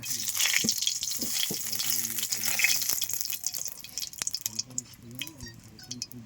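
Oil crackles and sizzles in a wok as whole bay leaves and cumin seeds fry, with intermittent drips and pops and a faint voice talking in the background.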